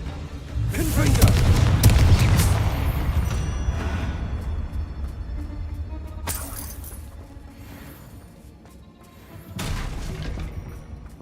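Fire spell blasts in Hogwarts Legacy land as heavy booming explosions with shattering debris, loud at first and fading, then another blast near the end, with spoken voices mixed in.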